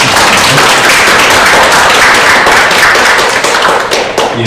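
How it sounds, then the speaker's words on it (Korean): Loud, dense audience applause filling a hall at an academic social studies education conference in Korea, sustained and close throughout before thinning slightly at the end. "박수 한번 주세요."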